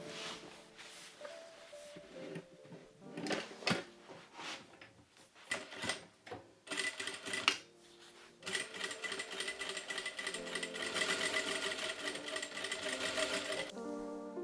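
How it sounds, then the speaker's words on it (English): A sewing machine top stitches the edge of a fabric trumpet skirt, running in bursts of fast mechanical whirring with short pauses and handling clicks in between, then one longer continuous run near the end. "Now top stitch this opening about 1 millimeter from the edge."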